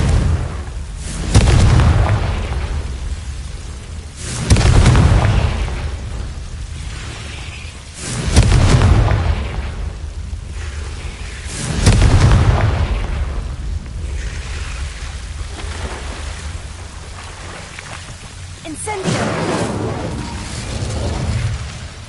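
Confringo spell blasts in the video game Hogwarts Legacy, five loud booming explosions spaced a few seconds apart, each with a deep thump and a fading rumble.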